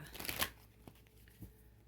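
Tarot cards being shuffled by hand, a short loud riffling burst at the start followed by softer scattered card slaps and rustles, close and without talk.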